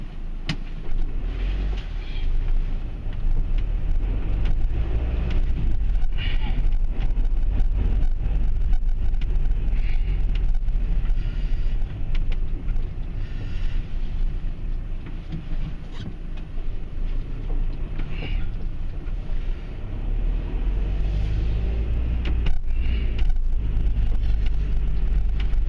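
Car driving slowly through a private car park in Stowmarket, a steady engine and tyre hum held close and continuous throughout, with no talking.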